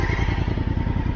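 Honda Africa Twin adventure motorcycle engine revving steadily while stuck in deep desert sand, a loud, close, rough low rumble with rapid pulsing firing beats held throughout.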